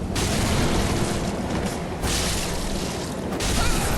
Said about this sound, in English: Oh, he did the fireball thing.